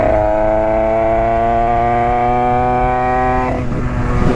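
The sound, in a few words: Derbi 80cc motorcycle with AC Développement 80 exhaust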